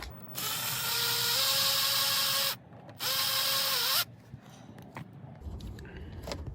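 A power driver on a Ford Five Hundred headlight assembly whirs loudly in two sustained bursts, the second rising in pitch at the end, followed by quieter clicks and handling noise as the screws come free.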